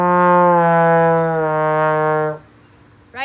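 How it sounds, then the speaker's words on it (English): A trombone plays a slurred run of notes without tonguing, so the pitches smear together muddily, one sustained loud phrase of about two seconds that fades out, followed by a brief sound at the very end. "If you don't tongue, it's gonna sound something like this."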